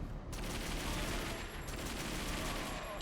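Shotgun fire from the video game Dead to Rights, a dense continuous roar of blasts with no distinct gaps, fairly loud and steady throughout.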